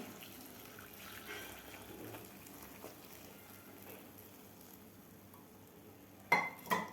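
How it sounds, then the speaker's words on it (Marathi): Hot water pours steadily from a glass over dried soybean chunks in a bowl, a soft continuous splash that fades and ends with a couple of brief clinks. "दोन ग्लास गरम पाणी घातलेलं आहे"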